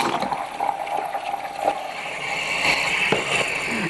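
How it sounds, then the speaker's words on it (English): Milk or heavy cream pours steadily into a pitcher, a continuous liquid gurgle and splash heard up close with no talking. "You're going to pour your milk or heavy cream into your pitcher."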